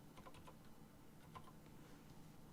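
Keystrokes patter on a computer keyboard as a search term is typed into an item-lookup menu in a modded Minecraft session, a steady run of light clicks over a low background hum.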